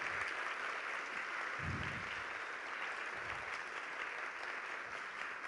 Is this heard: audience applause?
yes